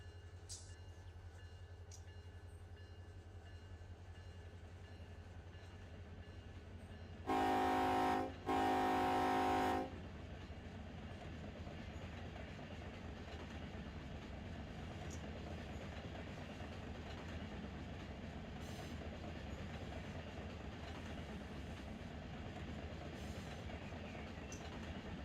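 A freight train rolls through the Run8 train simulator near Roseville with a steady low rumble throughout, broken early by two short, loud horn blasts in quick succession.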